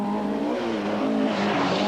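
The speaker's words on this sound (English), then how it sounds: "Connie Smith fires his Escort through Glen Village in fine style to lead Class 13." A Ford Escort rally car driving through Glen Village during a rally stage, its engine loud and close, revving hard with a rising tone as it accelerates past.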